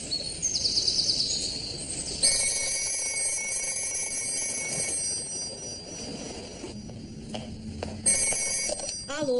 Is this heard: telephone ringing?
yes